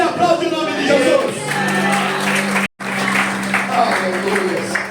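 A church congregation applauds and cheers, with scattered whoops and a steady tonal drone underneath. The clapping fills the whole stretch at a fairly loud level and cuts out for a split second midway.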